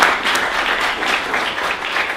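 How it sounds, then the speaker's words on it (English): Audience applause at a tech meetup, a dense, steady wash of many hands clapping that carries evenly through the whole stretch with no voices on top. "Round of applause to everybody out there."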